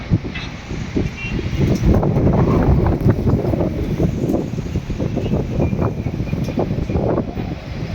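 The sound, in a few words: strong wind during a rainstorm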